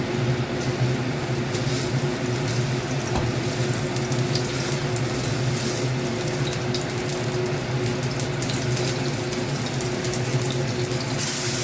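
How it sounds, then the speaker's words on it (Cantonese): Ginger slices frying in oil in a wok give a steady, dense sizzle and crackle that runs unbroken throughout, close and fairly loud, with no voices. "咁我哋喺個鑊嗰度落油，放啲薑片落去。 將薑片爆香"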